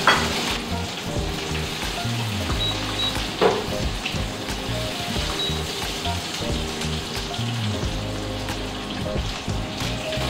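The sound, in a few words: potatoes frying in a pan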